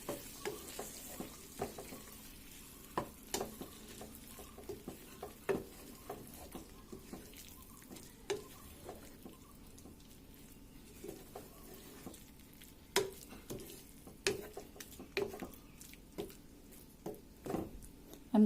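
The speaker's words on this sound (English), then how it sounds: "So I'm going to stir this now" A spoon stirs egg masala in a frying pan with soft scraping strokes and scattered taps over a quiet, low sizzle.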